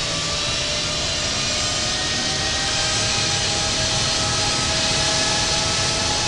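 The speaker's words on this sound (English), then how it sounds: "Taxiing to runway 27 right, Emirates 818 Heavy." An Emirates jet airliner taxis at Heathrow in a flight simulator game, a steady, loud whining engine roar with sustained tonal hum and no breaks.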